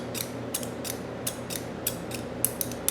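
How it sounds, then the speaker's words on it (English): Ordinary household scissors clicking and creaking as the blades open and close in a steady rhythm of about ten sharp, close snips, quiet and with no talking. "Got a pair of regular scissors."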